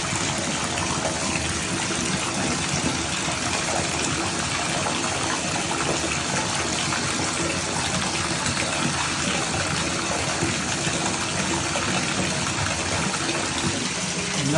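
Water runs steadily from a newly installed shower valve in a tight wall space, a continuous loud broadband gush with no pauses for the whole stretch.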